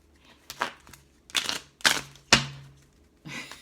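Several sharp, riffling bursts of tarot cards being shuffled at irregular intervals, close and fairly loud, with a faint low hum underneath and no talking.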